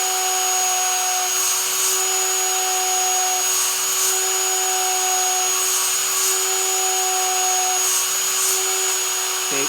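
A steady, high-pitched whine of a small drill boring through sea glass, running continuously, with a faint periodic pulsing as the bit grinds.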